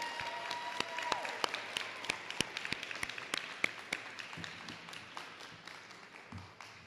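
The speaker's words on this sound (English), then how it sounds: "Let's thank them now with a big round of applause." Audience applause at a high school graduation ceremony: a crowd claps in a scattered, fairly quiet patter of individual sharp claps that thins out toward the end.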